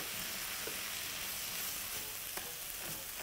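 Soy lamb stir fry sizzles steadily in a pan while a utensil stirs it, giving a constant close frying hiss broken by a few faint scrapes and taps.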